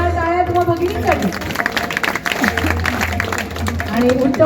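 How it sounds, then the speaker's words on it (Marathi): A crowd claps for the women who ran a food festival at a community mandal event, the scattered applause rising in the middle beneath loud voices talking and calling out nearby. "तर एकदा जोरदार टाळ्या तुम्हाला भगिनींसाठी."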